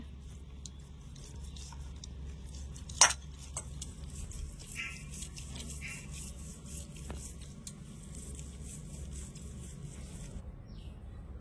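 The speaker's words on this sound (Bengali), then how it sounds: "পনিরটাকে একটু গ্রেটারের সাহায্যে গ্রেট করে নেব।" A block of paneer is grated by hand on a kitchen grater, making faint, steady rasping strokes with one sharp knock partway through.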